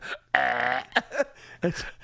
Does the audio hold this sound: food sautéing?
no